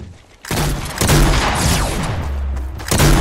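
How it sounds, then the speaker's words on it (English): Heavy shotgun blasts in the video game Fortnite, several loud booming shots in quick succession, each followed by a sustained roar, no talking over them. "Shotgun."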